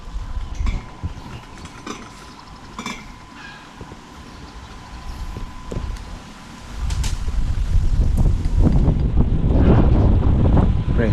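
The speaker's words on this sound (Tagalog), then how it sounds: "Ayan na yung hangin ng amihan oh." Amihan northeast monsoon wind blowing outdoors in front of a hut, a gusty rush that rumbles against the microphone and grows louder and fuller in the second half, with no speech.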